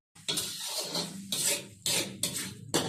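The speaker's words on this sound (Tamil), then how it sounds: "நம்ம நல்லா கொஞ்சம் கிண்டுவோம்." Pumpkin perattal being stirred in a pan, a utensil scraping and rasping against the metal in repeated broad strokes, close and fairly loud, with no voices.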